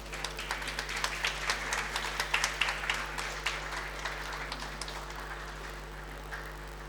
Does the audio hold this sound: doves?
no